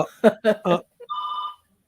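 A telephone rings once with a short electronic trill, heard right after several brief voiced bursts that sound like someone imitating a ring, then silence.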